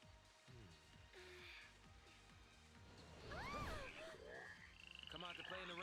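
Mud frogs croak in the video game Final Fantasy XIII, throaty calls in a rainy battle setting mixed with whooshes and a crash, a voice speaking faintly over the game sound.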